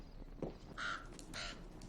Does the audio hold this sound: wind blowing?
no